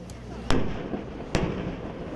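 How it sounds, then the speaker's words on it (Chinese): Two sharp, booming blasts about a second apart from 155 mm howitzers firing during a large live-fire artillery drill, loud and echoing with a short decaying rumble after each. "地面上炮声乒乓叫，榴炮对天顶一直拍。"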